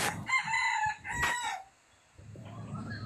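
A rooster crows twice in fairly close succession, loud and clear, followed by quieter background noise with no talking.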